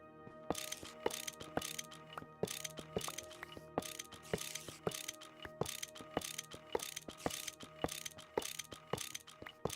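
A wrench works on machine parts in the modded Minecraft pack GregTech New Horizons, giving a quick series of crisp ratcheting clicks and metallic ticks, fairly quiet and with no voices.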